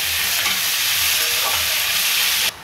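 Onions fry with cinnamon and cloves in hot oil for a chicken and potato gravy, producing a loud, steady sizzle with faint stirring scrapes that cuts off abruptly near the end, without speech.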